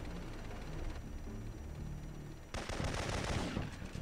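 Gunfire in the video game Syphon Filter 3, with steady rapid shots for a few seconds, then a louder and denser automatic burst that keeps going to the end.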